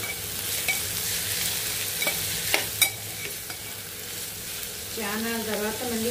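Sliced onions hit hot oil in a pan while cooking an egg and dried fish curry, giving a steady loud sizzle with scattered stirring clicks and scrapes, and a voice briefly speaks near the end.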